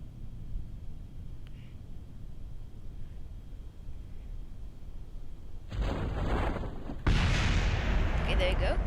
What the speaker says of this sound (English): That's the sound of the boosters exploding.